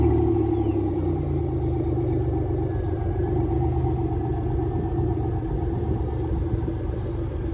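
A Pontiac Fiero's 2.8 V6 with a Spin Tech muffler rumbles steadily while cruising, a deep, even exhaust drone with a faint rise as the engine is revved lightly, heard alone without talk.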